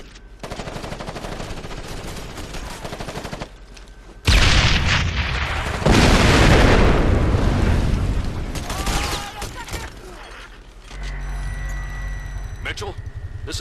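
Automatic weapons and explosions in Ghost Recon Advanced Warfighter: a burst of rapid machine-gun fire, then a loud sustained roar of blasts and shooting, ending with mechanical whirring, while soldiers shout orders over the combat.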